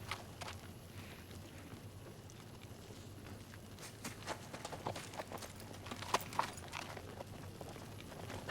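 Horse hooves clip-clop in a steady, moderately quiet rhythm on a hard surface, with a few sharper strikes standing out near the end over a low background rumble.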